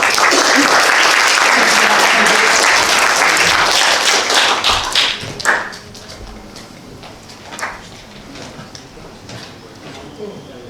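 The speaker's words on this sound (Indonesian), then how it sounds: "Kita berikan aplaus dulu untuk kelompok 2." An audience in a classroom presentation session claps for a group that has just presented. The applause is loud and dense, then fades after about five seconds into scattered taps and quieter room noise.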